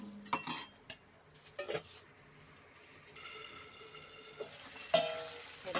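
Metal pot and utensil clatter while cooking a village-style drumstick curry, with a few sharp clanks like a lid being set down over a low background hiss and faint stirring, close and moderately quiet.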